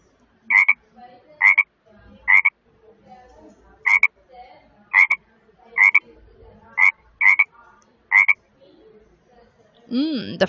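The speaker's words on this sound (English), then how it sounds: "The frogs." Frogs croak in a steady series of about nine short, sharp calls spaced roughly a second apart, close and clear against a quiet background, followed by a brief rising sound at the end.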